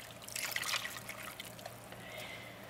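Low-fat, reduced-sodium beef broth trickles and splashes as it is poured over a caribou roast, a soft close liquid gurgle that fades after a couple of seconds.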